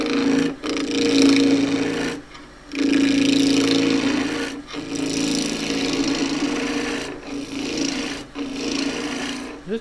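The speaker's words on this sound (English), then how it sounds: "So I'm going to do all this with a skew chisel." Green timber cut six weeks earlier, turned into a wand on a wood lathe running at 1800 rpm with a 1-inch (25mm) skew chisel: loud, sustained rasping cuts over a steady motor hum, broken by a few brief pauses.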